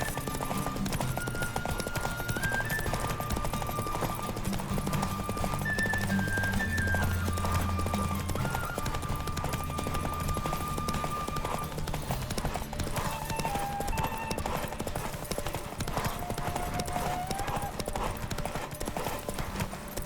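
A horse gallops flat out in a Witcher 3 race, its hooves drumming in a fast, relentless rhythm close up, with music and occasional shouted voices running alongside.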